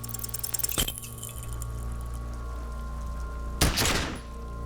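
Gunshot from a revolver in the game Disco Elysium: a sharp loud blast near the start, then a second heavy explosive burst about three seconds later that decays slowly over a steady background hum.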